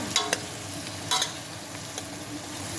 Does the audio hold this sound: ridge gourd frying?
yes